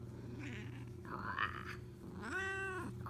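A pet cat meows several times in close succession, the calls drawn out and wavering, close to the microphone with a low background hum and no talking.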